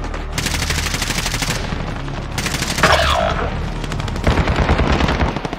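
Rapid automatic gunfire rattles through a Call of Duty Modern Warfare Warzone match, loud, dense bursts with short gaps, punctuated by a few heavier booms and ending in sharp rhythmic shots.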